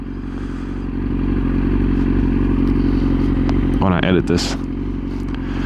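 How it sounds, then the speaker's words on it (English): A Yamaha R6 sport motorcycle engine runs with a steady, close rumble, broken near the end by a brief clattering burst, while someone talks over it. "Bike sounds good in here too."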